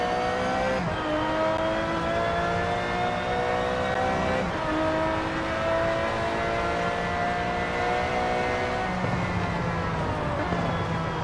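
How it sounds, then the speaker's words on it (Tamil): An Aston Martin Vulcan with a 7-litre V12 engine, driven in Forza Horizon 4, revs hard and continuously, its loud howling engine note climbing and dropping through repeated shifts with no talk over it. "7 லிட்டர் V12 என்ஜினோட இருக்குது இந்த கார்."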